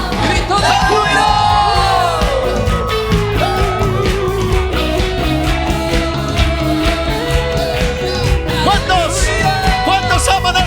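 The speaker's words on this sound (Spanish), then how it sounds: "Grito de júbilo." A church congregation shouts and cheers for joy during a sermon, loud and sustained for the whole stretch, with whoops and yells rising over steady music.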